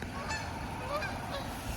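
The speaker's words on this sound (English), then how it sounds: "The Canadian geese are flying over." Canada geese honk repeatedly in the distance as they fly overhead, a few faint calls over soft wind noise.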